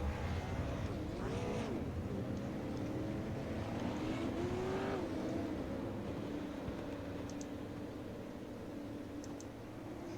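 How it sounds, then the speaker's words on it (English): A pace car and field of race cars roll at an Oxford Plains Speedway outlaw enduro, engines rising in a couple of revving sweeps early before settling into a steady, moderately distant low drone. "pace car is rolling."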